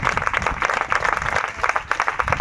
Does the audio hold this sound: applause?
yes